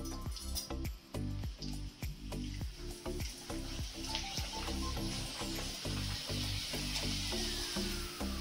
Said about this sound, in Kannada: ಎಣ್ಣೆ ಕಾದಿದೆ, ಈಗ ಹಪ್ಪಳವನ್ನು ಹಾಕ್ತೇನೆ.